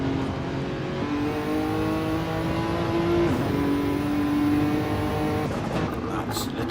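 Sim racing at Brands Hatch with GT cars including a white Toyota Supra: a steady engine drone holds through gear changes, the pitch stepping up and dropping, with the sound of another car passing near the end.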